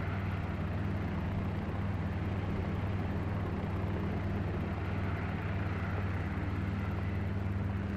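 Steady helicopter engine drone and rotor hum in the X-Plane flight simulator, constant and loud throughout with no change in rhythm, no talk.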